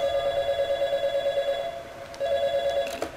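A telephone call rings out in the Portal 2 video game, a steady electronic ringing tone repeated in two long bursts with a brief pause, clear and alone without talk.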